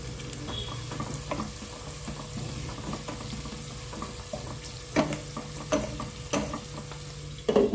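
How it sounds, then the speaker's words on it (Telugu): Onions sprinkled with salt fry in a pan, a constant sizzle broken by scraping stirs and a few louder clatters near the end, close by and without talk. "ఉల్లిపాయలు తొందరగా వేగడానికి లైట్గా ఉప్పు వేయండి."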